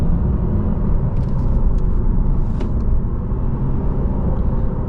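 A 2022 Lexus RC350 F Sport driving on a winding highway produces a steady, dense road and tire rumble as it crosses broken pavement, with no one talking.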